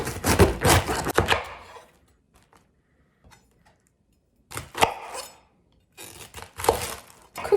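A knife chops cabbage for tteokbokki on a cutting board, landing in quick bursts of crisp cuts separated by pauses, close and fairly quiet with no one talking.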